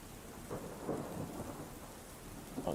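Rain grows heavier and hisses steadily while low rumbles of thunder roll underneath, with no voices.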